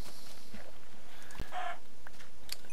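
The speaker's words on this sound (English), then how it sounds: "Going to just finish off the chicken." Clucks from a chicken in Minecraft sound briefly alongside a sharp hit, with a short burst of game sound afterwards; near and fairly loud, with no talking.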